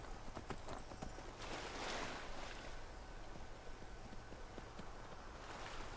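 Horse hooves clip-clopping in a steady trotting rhythm during a ride in the video game Skyrim, close and continuous over a wind-like ambient bed, with no talking.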